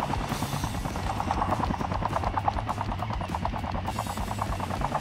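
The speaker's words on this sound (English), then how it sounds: "I think we're in the helicopter." Steady helicopter rotor chop in a Call of Duty Mobile battle royale match, loud and continuous with a fast regular beat and engine hum throughout.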